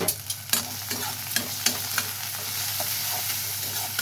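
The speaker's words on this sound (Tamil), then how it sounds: "இப்போ இது வெங்காயம் நல்லா வதங்கட்டும் கருவேப்பிலை" Onion and curry leaves sautéing in a pan for horse gram curry, a soft continuous sizzle with a handful of sharp spatula clacks and scrapes against the pan early on; close but moderate in level, no speech.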